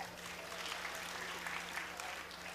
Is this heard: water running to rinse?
no